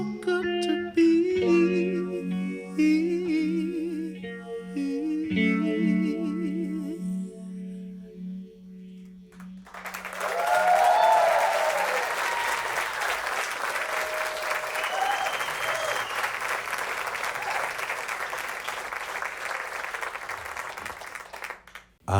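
A live radio studio audience at the Leon Loft in Ann Arbor breaks into loud, sustained applause and cheering as a sung music performance ends, the clapping swelling then slowly thinning out.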